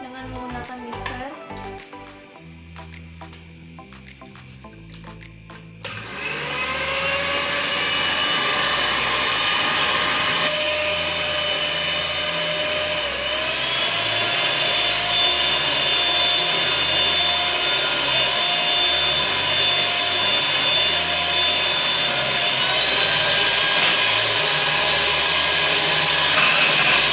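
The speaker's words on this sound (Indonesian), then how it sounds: "kita mix campuran-campuran ini dengan menggunakan mixer" Electric mixer beating a homemade ice cream mixture, a steady loud whirring drone that starts abruptly after a few seconds of quieter sound and runs continuously to the end.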